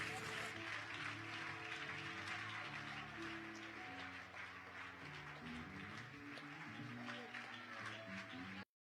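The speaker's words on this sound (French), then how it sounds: "Acclaim the Lord powerfully." A church congregation keeps up a steady, enthusiastic round of applause in praise of the Lord, the clapping forming a broad wash beneath sustained music and a voice speaking over it.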